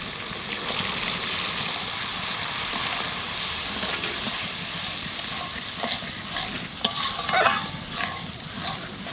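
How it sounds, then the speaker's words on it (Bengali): Prawn masala frying in oil in a pan as coconut water goes in, giving a continuous sizzle with stirring scrapes and a burst of louder bubbling and hissing near the end; no voices. "মশলায় তেল ছেড়ে গেছে, এখানে একটু ডাবের জল দিয়ে দেবো।"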